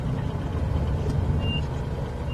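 An aircraft engine in Microsoft Flight Simulator 2024 throttles up, a steady, loud low rumble with a thin high whine that holds throughout.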